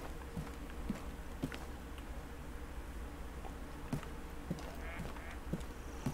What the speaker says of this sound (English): I hear a duck at night